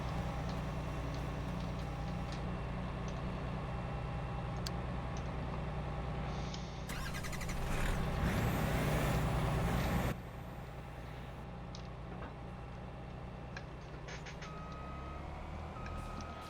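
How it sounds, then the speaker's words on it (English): In a farming video game, a truck engine rumbles steadily while a rhythmic reversing beep repeats, with a louder surge of engine and air noise midway as it drives off. "We need to send our truck on its way."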